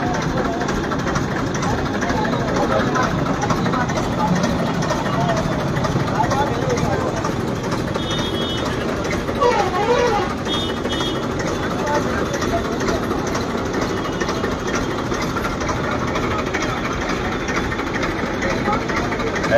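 At a cow shelter, a tractor engine idles with a constant low, throbbing rumble throughout, and voices seem to talk over it.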